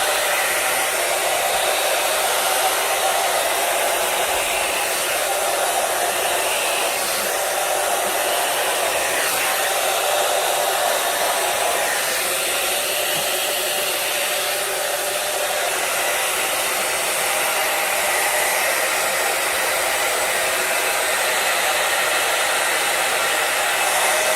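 A hair dryer brush runs on its high setting with a steady, loud airy roar that holds evenly throughout, no voices.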